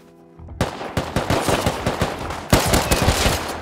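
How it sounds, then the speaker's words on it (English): Rapid bursts of automatic gunfire in the video game Rust, loud and close, firing in two quick sustained volleys separated by a short pause. "I was getting shot at by a fucking scientist."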